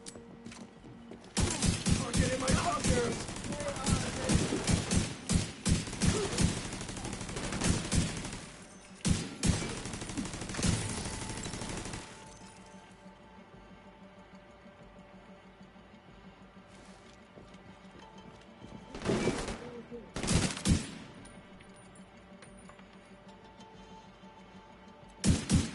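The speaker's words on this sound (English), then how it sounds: "Like all the gunfire?" Rapid gunfire in the shooter game The Division 2 comes in a dense automatic burst lasting several seconds, then a quieter lull with a low hum, then shorter volleys of shots near the end.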